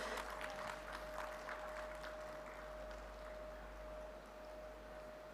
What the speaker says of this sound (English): Can we extend a huge round of applause for all the panelists?